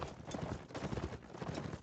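Horse hooves in a video game clip-clop in a quick, steady galloping rhythm, moderately faint and continuous, with no talk over them.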